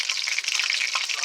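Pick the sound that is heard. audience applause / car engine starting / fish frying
fish frying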